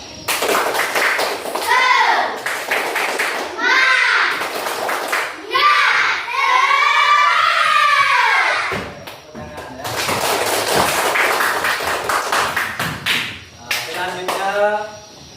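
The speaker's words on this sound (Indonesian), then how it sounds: "Silakan tepuk semangat dulu." Primary school children in a classroom perform the rhythmic tepuk semangat spirit clap, crisp patterned bursts of hand claps alternating with loud chanted children's voices in several rounds.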